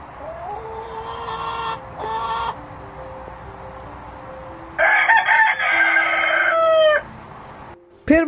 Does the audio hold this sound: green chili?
no